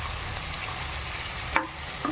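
Chicken curry fries in a pan with a steady close sizzle, broken by one brief scrape of a spoon near the end, with no voices.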